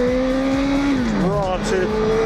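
A 2008 Honda Fireblade motorcycle pulls hard in first gear, its loud engine note climbing, then dipping at a shift or throttle change before rising again, heard up close over constant wind roar.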